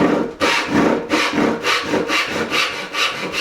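A hand saw cuts dovetails in wood clamped in a shoulder vise on a Roubo/Scandinavian workbench, giving about six steady rasping strokes back and forth, close and loud, with no talk.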